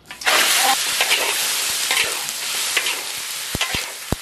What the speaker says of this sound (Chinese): 油热了，放入鸡块。